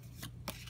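Pokémon trading cards from a Primal Clash pack shuffled by hand for a card trick, two brief soft riffling bursts, quiet and close, with no talking.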